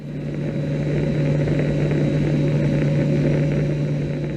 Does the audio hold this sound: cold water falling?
no